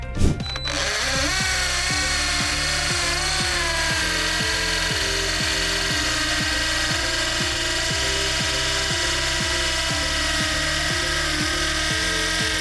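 A cordless 20V imax drill in hammer mode bores into concrete, a loud continuous whirring motor with rapid rhythmic hammering pulses running steadily throughout, close and alone.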